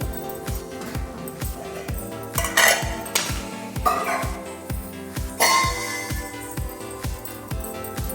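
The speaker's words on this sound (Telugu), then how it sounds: "ఇప్పుడు రైస్ని కుండలో వేసుకోవాలి." Cooked rice for a chicken dum biryani goes into a clay pot. A steady run of rhythmic thumps and clinks from a utensil against the vessel continues throughout, loud and close, with no speech.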